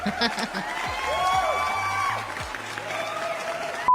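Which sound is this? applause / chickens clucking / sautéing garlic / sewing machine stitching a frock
applause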